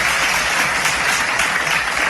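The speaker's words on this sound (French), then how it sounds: "Je vous prie d'applaudir, mesdames et messieurs, teneur d'acclamation." At an anniversary award ceremony, a room full of people applauds with dense, continuous clapping. It stays loud and steady throughout, close and uninterrupted, with no speech over it.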